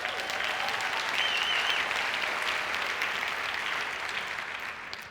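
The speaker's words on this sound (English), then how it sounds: "You guys have to stop clapping too much or I'm going to run out of time." A large audience clapping at an environmental conference talk, a dense, continuous roar of applause with a few whistles and cheers, slowly fading toward the end.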